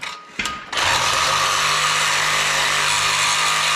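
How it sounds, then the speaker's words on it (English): A Sawzall reciprocating saw cuts through the exhaust of a Honda CRX, starting after a couple of short bursts and then running as a loud, continuous, buzzing grind close to the microphone. "We need sawzall blades."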